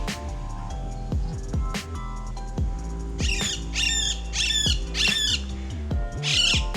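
A green parrot squawks outdoors in Mumbai, a run of loud, harsh, repeated calls in quick bursts over a constant hum of steady background noise.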